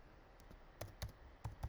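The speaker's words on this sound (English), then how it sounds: "I'm gonna type" A few sparse keystrokes on a computer keyboard, typed in short separate taps at a quiet, close distance with soft room hiss between them.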